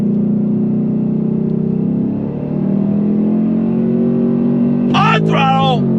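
A 2024 Ford Mustang GT in Grabber Blue accelerates hard with paddle shifts, its engine rising in pitch, dipping briefly at a quick shift, then climbing again, loud and close, with a person talking excitedly over it near the end.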